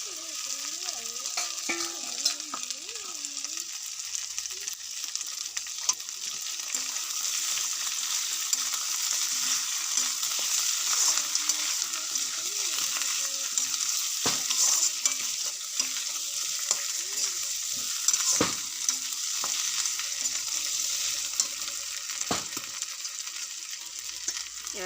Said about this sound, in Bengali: কলমি শাক ভাজা হচ্ছে।